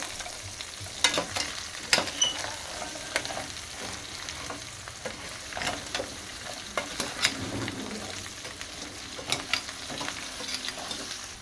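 Crab curry being stirred in a pan after chili powder goes in, with a steady close sizzle and repeated scraping strokes of a spoon against the pan, no voices.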